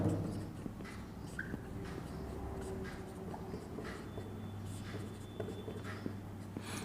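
A pen writing by hand on paper during a school maths lesson, giving a close, steady scratching that runs throughout over a low background hum.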